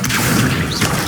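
In Hogwarts Legacy the Accio summoning spell is cast, producing a short, loud, crashing magical whoosh with a mechanical clatter, all within about a second.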